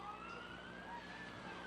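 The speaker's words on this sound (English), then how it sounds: "The police car had the siren going." A police car siren wails at a Ste. Genevieve County Fair parade, its steady tone rising slowly, faint and distant beneath the broad murmur of a roadside crowd.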